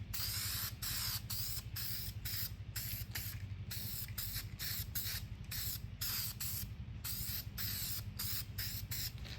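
Short bursts of black spray paint from an aerosol can coating an arcade cabinet ring, a rapid series of close hissing sprays with brief pauses between them.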